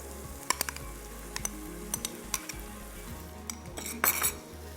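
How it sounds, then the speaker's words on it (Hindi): Minced meat qeema sautés in a pan, with light, scattered clinks of a metal spoon against the cookware and a soft sizzle underneath, quiet and close with no talking. "इसको डाल के थोड़ा सा भूनेंगे 30-40 सेकंड्स और इसके साथ ही इसमें शामिल कर देंगे ये कीमा"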